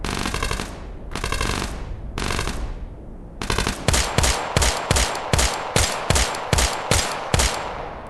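Gunfire in the Tactical Assault VR shooter: three long automatic bursts, then a rapid, evenly spaced series of about a dozen loud single shots.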